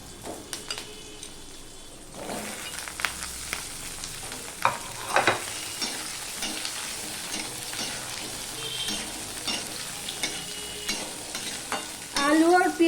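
Potatoes drop into a pan of onions and fry with a continuous close sizzle, broken by scattered stirring scrapes and clatter, growing louder at the end.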